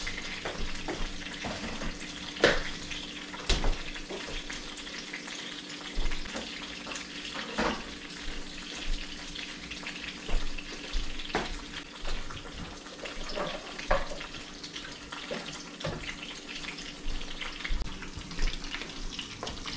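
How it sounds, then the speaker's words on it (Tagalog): A pot of water heating on a stove for boiling eggs, giving a soft, steady bubbling and sizzling hiss with scattered faint clicks and clinks, quiet and close. "pinakukuluan ko lang yan"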